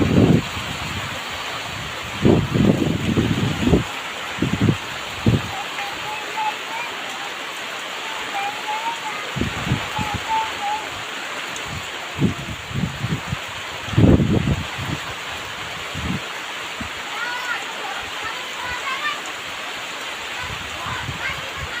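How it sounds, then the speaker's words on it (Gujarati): Heavy monsoon rain falls in a steady broadband roar, with wind gusts buffeting the microphone and bursts of louder noise throughout. "એટલો જોરદાર વરસાદ પડી રહ્યો છે."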